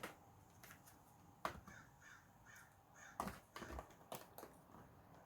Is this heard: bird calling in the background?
yes